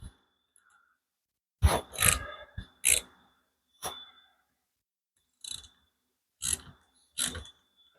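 A ball joint insert being tightened into a Skyjacker 2-inch drop A-arm for a 1988–1998 Chevrolet K1500, heard as sparse metallic clicks, ratchet ticks and short scrapes spread irregularly over quiet gaps.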